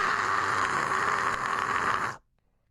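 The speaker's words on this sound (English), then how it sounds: "You're going to try and push in that whisper to try and roll a little bit of the phlegm that's in your throat." Whispered metal scream technique, a breathy, noisy throat rattle rolling phlegm, held steadily for about two seconds and then cut off into silence.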